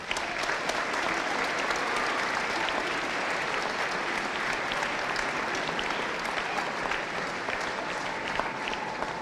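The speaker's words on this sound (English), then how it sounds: "Please give a warm round of applause for Mr." A school band event audience applauds the chair of the Forsyth County Band Directors Association, steady dense clapping filling the room at an even level from start to finish with no voices over it.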